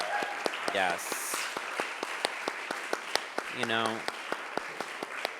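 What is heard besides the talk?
audience applause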